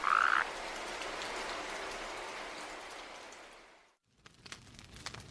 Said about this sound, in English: A toad came into her kitchen.